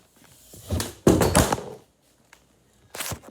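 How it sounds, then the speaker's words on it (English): A camera toppling off a tripod: a knock and clatter followed by a louder heavy thud and rattle, then quiet and a final sharp knock, close and sudden. "it completely fell off the tripod"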